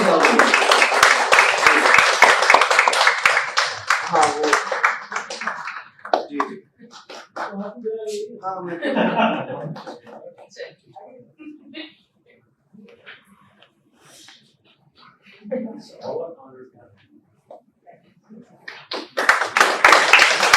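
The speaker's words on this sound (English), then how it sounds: "Please keep applauding." An award ceremony audience at an oncology conference inauguration bursts into loud, dense applause that fades into a speaking voice and scattered claps, then swells again at the end.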